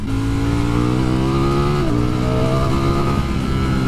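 A 2020 Ducati Streetfighter V4 motorcycle engine revs hard and loud, its pitch climbing, dipping briefly, then rising again in a steady, aggressive roar.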